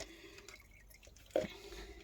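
Water dripping and splashing while tumbled New Zealand rocks are rinsed, with quiet trickles and one sharper splash near the end, close and fairly faint.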